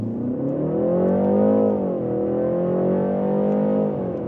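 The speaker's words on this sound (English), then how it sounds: "the beautiful inline-six soundtrack" A 2025 BMW 330i xDrive's turbocharged 255 hp inline-six accelerates hard, its steady engine note rising and sweeping up in pitch, dipping, then climbing again, close and loud with no talking.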